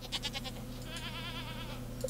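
A baby goat bleats in Stardew Valley, a single wavering cry over a steady low game-music drone, with a few soft chimes before and after.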